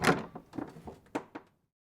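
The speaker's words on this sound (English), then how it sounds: "I opened the door to the small shop." A small shop's door swings open in a short run of clunks and rattling knocks, the first strongest, fading to silence after about a second and a half.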